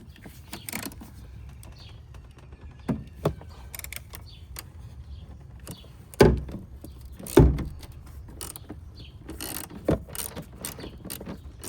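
A wrench loosens a bolt on a BMW 228i engine mount in a quiet workshop, producing sparse metallic clicks and ratcheting creaks with several sharper clanks and knocks spaced irregularly against near-silence.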